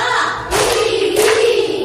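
A classroom of students claps along in rhythm to a counting chant during a lesson, with two broadband bursts of clapping standing out over a steady voice, fairly close and loud.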